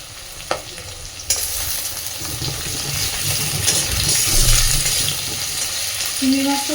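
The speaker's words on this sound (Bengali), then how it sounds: "চিংড়ি মাছটা দিয়ে আগে সুন্দর করে ভেজে নেব" Small prawns fry in a pan with a steady, moderately loud sizzle and a few stirring scrapes, the frying noise continuous throughout with no talk.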